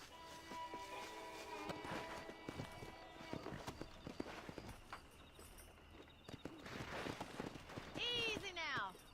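Rhythmic hoofbeats clip-clop steadily under speech and ambient sounds in the video game Red Dead Redemption 2, ending with a loud horse whinny near the close.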